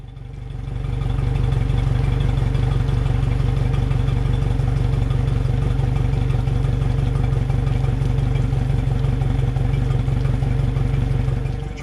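A rebuilt, hurricane-salvaged outboard boat motor idles steadily with a low, even chug and light mechanical clatter, loud and close, running the whole time without pause.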